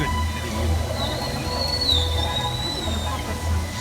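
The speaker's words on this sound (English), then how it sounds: "Whistles to socialize in the pod." Faint, high gliding orca whistles rise and fall over a steady underwater rumble and hiss, recorded at SeaWorld San Diego.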